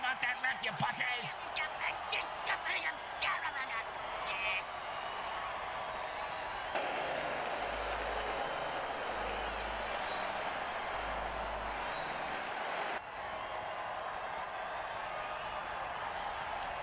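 A simulated stadium crowd in an American football video game roars in a steady, dense wash of cheering, rising louder midway, with a commentator talking over it.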